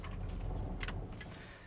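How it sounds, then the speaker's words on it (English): A bunch of truck ignition and door lock keys for a 1953 Chevrolet 3100 pickup jingles close up in a brief metallic rattle, with a few brighter clinks toward the middle. "you have door lock keys, you have ignition keys here"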